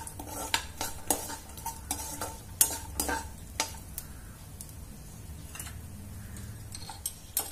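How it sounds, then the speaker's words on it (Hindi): Cashews and almonds frying in ghee in a pan for date laddoos: a soft, low sizzle under repeated sharp clinks and scrapes of a spoon stirring against the pan. "इसमें हम डालेंगे नट्स तो यहाँ पे आप काजू बादाम कुछ भी आप डाल सकते हो और इसे हम अच्छी तरीके से थोड़ा सा हम इसे भी फ्राई कर लेंगे"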